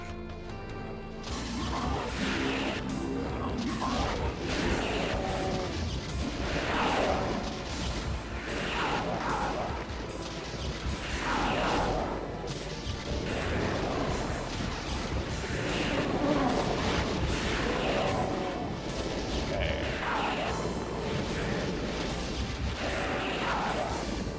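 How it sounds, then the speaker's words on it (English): A BFG fires in the Doom game Eviternity, followed by a run into the explosion. Loud, dense blasts and crashing impacts repeat across the stretch in rapid bursts over a continuous roaring din of combat. "shoot the BFG and then run directly into the explosion"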